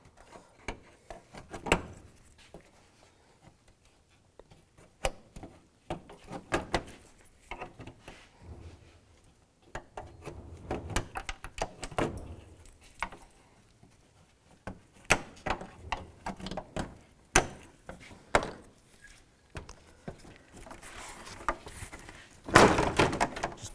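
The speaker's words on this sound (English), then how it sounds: "Take this panel off, use a trim tool, take these trim clips off." Sharp plastic clicks and dull thunks as a trim tool pries trim clips off an interior panel of a 2010-2016 Cadillac SRX, scattered irregularly and close by, with quiet pauses between pops and no talking.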